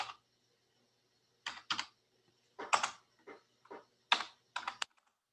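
A computer keyboard is typed on in short, close bursts of clicking keystrokes separated by pauses, with no talking.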